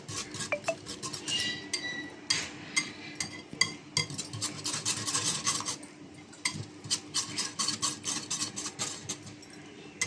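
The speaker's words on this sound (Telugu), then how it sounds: "బాగా కలుపుకోవాలి, అవన్నీ బాగా కలవాలి." A masala bread spice mixture of garam masala and coriander powder being stirred by hand in a bowl, with repeated scraping, rasping strokes and light clinks of a utensil against the dish at close range.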